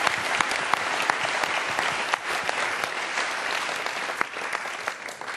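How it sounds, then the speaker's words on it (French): Sustained, dense applause from an audience at an awards ceremony, loud and close, with a few sharp individual claps standing out from the steady roar of clapping. "Applaudissements s'il vous plaît."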